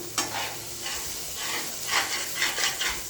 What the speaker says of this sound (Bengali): তো মাংসটা এতে দিয়ে আস্তে আস্তে কষাবো